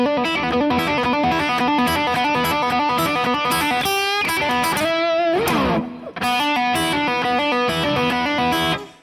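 A fast, distorted electric guitar lick of hammer-ons and pull-offs rolls along in rapid repeating notes, smooth and legato, with a brief bending run in the middle before the pattern resumes.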